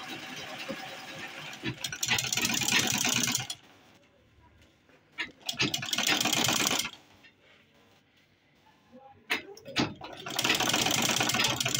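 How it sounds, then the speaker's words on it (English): Sewing machine top stitching a fabric fanny pack in three close mechanical bursts of rapid stitching, separated by quiet pauses with faint handling noises. "I'm going to get in some of these and then top stitch"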